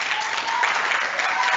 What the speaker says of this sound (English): Clap it up for our sister.